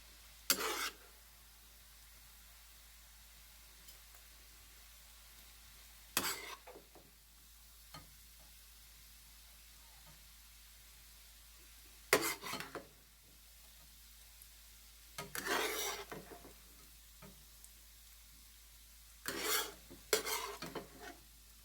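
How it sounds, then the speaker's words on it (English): Onions and green peppers sauté in a pan for a home-made gyros meal, a faint steady sizzle punctuated by about six short bursts of scraping and stirring spaced several seconds apart. "we're going to get our onions and our green peppers in here and saute them for a little bit"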